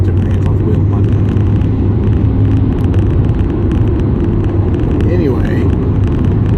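Inside a moving car, a constant low engine drone and road rumble fill the cabin, with a voice partly heard over the steady noise.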